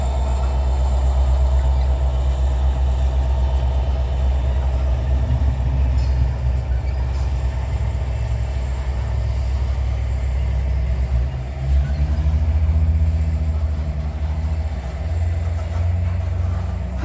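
Freight cars roll steadily past on the rails nearby, a continuous heavy rumble that dips briefly and then resumes, loud and alone without talk.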